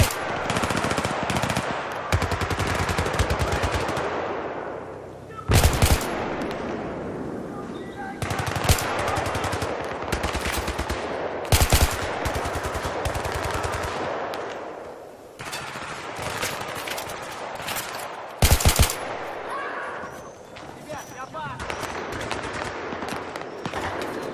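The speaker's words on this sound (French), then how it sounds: "Subissons des tirs nourris!" Sustained heavy machine-gun fire in the video game Battlefield 3, loud dense bursts rolling almost continuously with sharp louder shots now and then, and a voice heard faintly under the gunfire.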